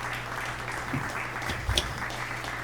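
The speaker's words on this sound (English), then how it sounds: "Give him a round of applause." A game show audience gives a steady wash of clapping, moderately loud and sustained throughout with no break.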